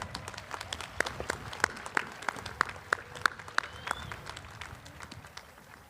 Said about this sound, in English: Another round of applause, choir.